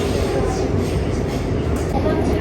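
Steady roar and rumble inside a moving Seoul subway car, a dense continuous rolling noise that fills the whole stretch with no break.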